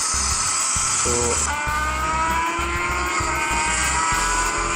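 A tilt-controlled motorbike racing game on a Panasonic P51 phone: the engine whines continuously, its pitch climbing and shifting as it revs, with thumping low beats and electronic tones beneath.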